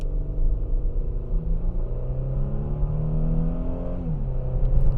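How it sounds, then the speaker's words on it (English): A 2013 Mercedes-Benz E350 4Matic sport wagon accelerates hard, its engine revving up in a rising whine over a rumbling low drone, then dropping in pitch as it shifts gear, heard from inside the cabin. "I'm going to put it in drive, and I'll accelerate a little more aggressive."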